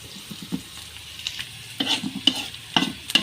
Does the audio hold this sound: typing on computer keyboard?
no